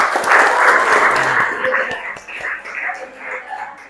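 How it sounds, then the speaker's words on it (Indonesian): Group applause from students in a classroom, a loud burst of clapping that gradually thins and fades, with some voices mixed in. "Tepuk tangan untuk semua kita dulu."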